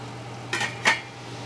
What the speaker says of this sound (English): just stir that together, and we're going to let that saute.